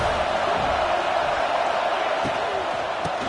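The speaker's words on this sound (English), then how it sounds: "This crowd ready to make its presence known." A college football stadium crowd at a USC Trojans game roars at kickoff, a loud continuous wash of noise with a few thuds, while a commentator talks over it.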